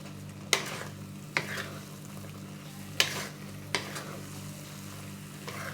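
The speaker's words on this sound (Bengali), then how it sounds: "এবার আমি ডালের গুঁড়োগুলো দিয়ে দিচ্ছি গ্যাসের ফ্লেমটা একদম কমিয়ে দিয়েছি দিয়ে আমি এবার নেড়ে এর সঙ্গে মিশিয়ে দিচ্ছি" Gram dal powder being stirred in a pan over a low gas flame: a handful of sharp spoon scrapes against the pan, spaced apart over a steady low hum, with no talking.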